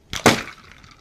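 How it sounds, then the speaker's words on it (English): A heated aluminium can is upended into ice water and implodes with a single sharp, loud crunch and a brief crackling tail. "And just like that, the can is crushed."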